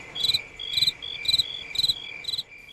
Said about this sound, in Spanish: Y la Orquesta Sinfónica Nacional de Grillos se hizo presente.